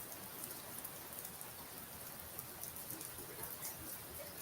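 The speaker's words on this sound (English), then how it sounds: "it is pouring down rain" Heavy rain pours down outside as a dense, steady hiss of droplets, faint and continuous, with a few sharper splashes scattered through it.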